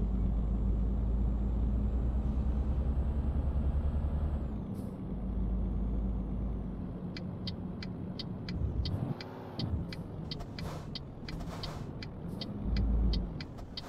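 Heavy truck driving in Euro Truck Simulator 2, a steady low engine drone throughout, with air-brake hisses and a rising rumble near the middle, clicking indicator ticks later on, no talking.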